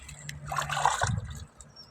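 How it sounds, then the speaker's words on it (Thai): Water flows and trickles outdoors where apple snails are gathered, a soft, close gurgle lasting a couple of seconds. "น้ำไหลแบบนี้"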